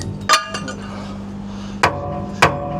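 Three sharp metallic hammer blows, each ringing briefly, strike the worn bucket of a Volvo LH150 loader while a new arrow head edge is fitted, with quiet gaps between the first and the last two strikes.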